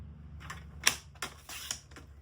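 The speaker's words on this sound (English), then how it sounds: "So let me put it in the paper trimmer." A paper trimmer slicing card stock for a handmade pocket card gives a few quiet, sharp clicks and short cutting scrapes spaced about half a second apart, close and faint.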